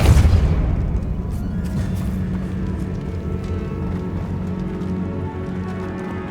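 Depulso force spell cast in the video game Hogwarts Legacy, a loud booming burst at the start that fades into a sustained low rumble and game ambience, with no speech.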